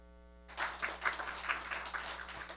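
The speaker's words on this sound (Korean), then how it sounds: "박수로 모시겠습니다" A church congregation applauding to welcome a woman giving her testimony: clapping starts abruptly after a brief hum and continues as a soft, moderately dense patter from a modest crowd, fairly faint and a little distant.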